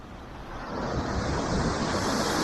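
Sea waves along a Spanish coastline near a beach campsite make a steady, full rush of surf mixed with wind noise, building slightly over a few seconds.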